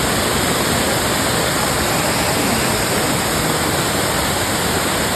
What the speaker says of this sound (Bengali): কল্পাকিন্নরের এই ঝর্ণাটা আমাদের দেখাই একদম পাহাড়ের ওপর থেকে জলধারা দেখো কি স্পিডে ওপর থেকে নিচে পড়ছে